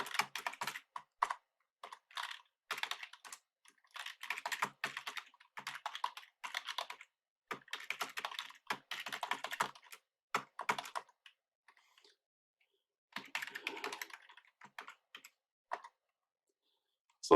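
Computer keyboard typing while code is written, with irregular bursts of quick clicking keystrokes broken by short pauses, close and fairly quiet, and no voice.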